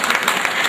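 Audience applause at a live song show, a dense steady wash of many hands clapping for under a second, fairly loud and continuous.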